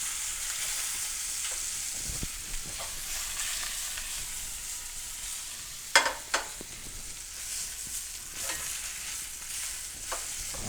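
Pork fillet searing in a pan with butter, olive oil and leeks: a soft, steady sizzle and crackle, with a few sharp clunks of the meat being turned, no talking.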